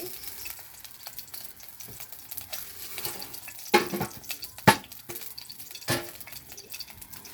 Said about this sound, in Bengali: তো আমি কয়টা মরিচ দিয়ে দিচ্ছি।